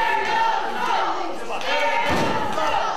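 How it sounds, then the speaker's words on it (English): Crowd at an indoor wrestling show chanting for the wrestler Aerial Assault, a loud rhythmic group chant that rises and falls, with thuds from the ring mixed in. "the crowd chanting for aerial assault"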